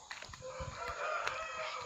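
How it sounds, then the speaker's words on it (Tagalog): A rooster crows over a busy poultry-farm din of clucking and chicken calls, moderately distant, with steady background noise. "Ang dami chicken"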